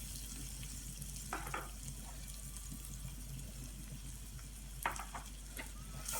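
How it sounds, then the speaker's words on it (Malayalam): Onions sautéing with coriander and chili powder in a pan for kappa and egg biryani, a soft, low sizzle with a couple of brief stirring clinks and no speech. "മല്ലിപ്പൊടി മുളക് പൊടി ഇട്ട് നമ്മൾ നന്നായിട്ട് വഴറ്റിയെടുക്കണം"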